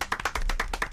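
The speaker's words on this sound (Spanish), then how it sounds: "Un aplauso." Brief burst of hand clapping at a lucha libre wrestling event, several quick claps in an uneven rhythm, close and moderately loud.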